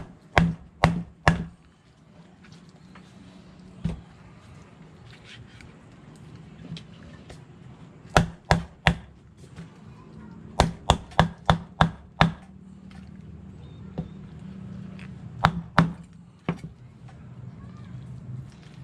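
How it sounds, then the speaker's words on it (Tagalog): A knife chops through the head of a deep-sea fish in a series of sharp, loud whacks, clustered in quick bursts with pauses between, close up and standing clearly above low background hum. "Tiyakin natin tong ulo para pag niluto natin mamaya."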